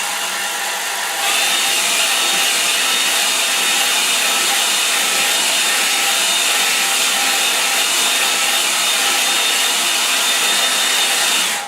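Hair dryer blowing over a watercolour painting of a Suffolk lane, a loud steady whooshing roar that starts after a brief lower hum and runs continuously to the end with no talk.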